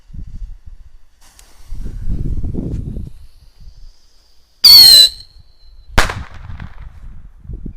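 A Whistling Moon Traveller firework rocket from Tropic launches with a sharp, shrill whistle lasting under a second, followed by a sharp crack. Soft rustling fills the gaps.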